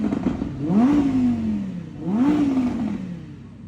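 Audi R8 V10 Plus on its stock exhaust revving at standstill: two sharp blips, each climbing quickly then falling back with a raspy, close, loud roar over a low idle, with no voices.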